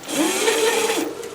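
On a bicycle, a small generator wheel for an electric bike rubs against the spinning tire, a close, steady whirring hum with a faint rising and falling pitch, lasting just over a second.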